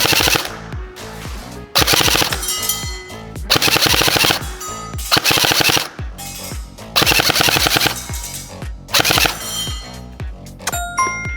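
Airsoft gun firing in binary trigger mode, loud rapid bursts of mechanical shots in repeated strings separated by brief pauses, close up with metallic pinging.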